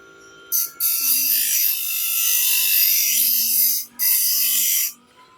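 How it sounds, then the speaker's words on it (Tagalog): A blade from a portable grass cutter is handled, producing loud, steady whirring and scraping noise in two long stretches with a short break between them, with no talking. "Ito ay blade ng grass cutter na portable."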